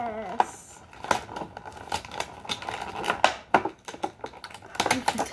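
Sticker being peeled off a surface, heard as close, irregular crinkly tearing and crackling bursts with small clicks, a brief voice at the start.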